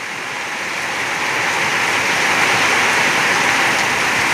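Heavy rain pours down in a loud, dense, unbroken wash of noise close by, steady from start to finish with no voices.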